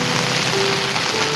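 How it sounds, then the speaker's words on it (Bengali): Heavy rain pours at night in the Dum Dum area of Kolkata, a dense, continuous hiss and patter of water on surfaces, loud and close, with no voices. "কিন্তু হঠাৎ করে বিকেলের পর থেকে এরকম বৃষ্টি"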